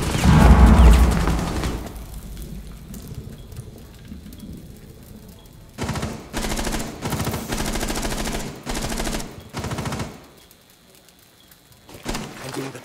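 Bursts of automatic gunfire from a Rainbow Six Siege match on the Hereford map, with heavy rattling volleys loud and close, stopping and starting in several bursts after a quieter stretch.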